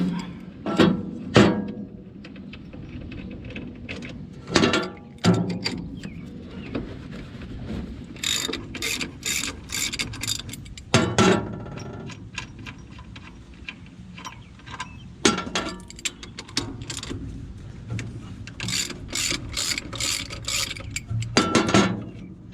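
Bolts come out of the end plate on a 7300 tractor in a series of metallic clanks, ratcheting clicks and tool knocks at irregular intervals, close by, with scraping and rattling in between and no talking.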